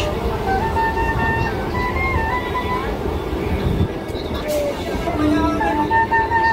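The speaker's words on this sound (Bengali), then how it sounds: "ট্রেনে সুন্দর বাঁশুড়ির আওয়াজ" A Shantipur local train running toward Ranaghat, a continuous loud rumble of the moving carriages with tonal whistle-like tones sounding over it; voices murmur faintly in the background.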